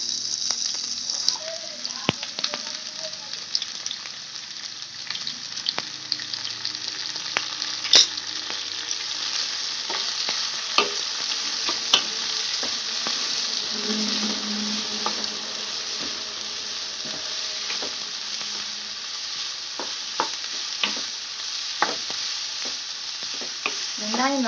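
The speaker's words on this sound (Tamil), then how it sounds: "கறிவேப்பிலை கட் பண்ணி வச்சிருக்க வெங்காயத்தை சேர்த்துக்கலாம்." Onions and curry leaves fry in a pan for a chana masala, giving a steady broad sizzle with scattered crackles and spatula scrapes and stirs throughout, continuous and close.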